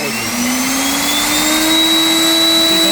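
A STARTPRO battery-powered leaf blower running in turbo mode, a loud steady high-pitched motor whine with a rising tone, continuous and close throughout with no talking.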